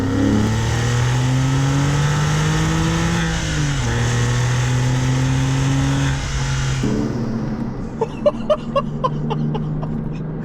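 A Porsche 996 Carrera engine revs up through second gear, pitch climbing, drops briefly at a shift, then rises again before settling, with some clicking near the end.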